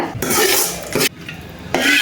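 Spiced fennel, ginger-garlic paste and curry leaf tempering is tipped into a pot of mutton curry, giving sharp clattering scrapes of a pan in short bursts with a brief pause between, close and loud.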